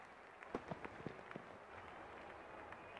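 Cheering stadium crowd in the cricket video game Real Cricket 20 after a huge hit, a continuous roar with a few sharp clap-like bursts early on, steady and fairly loud throughout.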